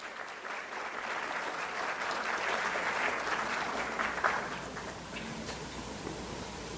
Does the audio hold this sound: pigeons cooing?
no